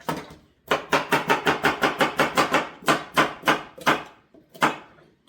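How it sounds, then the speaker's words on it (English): A knife chopping carrots on a cutting board for vegan cheese sauce, a fast, even run of about fifteen crisp knocks, then a few slower, scattered cuts, close and loud. "I'm pretty fast at chopping"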